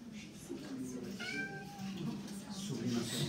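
Cat meowing indoors in a classroom setting, one drawn-out meow in the middle with quieter mews around it, under people talking.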